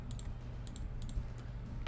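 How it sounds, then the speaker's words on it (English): Rapid computer mouse clicks while building an L-shaped structure in Medieval Engineers, a quick run of sharp, light clicks over a steady low hum, close and fairly quiet. "too many mouse clicks in a row"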